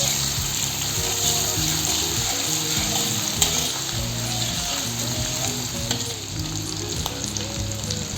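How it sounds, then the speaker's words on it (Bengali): Chopped onion and garlic paste fry in a pan for a homemade jackfruit curry, giving a close, steady sizzle with occasional clinks and scrapes of stirring. "পেঁয়াজের কুচি আর রসুনের পেস্ট একসাথে ভালো করে ভেজে নেব।"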